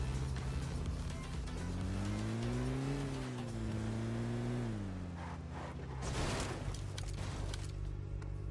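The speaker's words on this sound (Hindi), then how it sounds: "पहले मैं फुल बूस्ट लगाता हूँ यहाँ पे, और अब जाके गाइस रश मार देंगे गाड़ी के साथ" A car engine drones and revs with rising and falling pitch as the vehicle boosts forward in PUBG Mobile, with tire and road noise growing louder near the end.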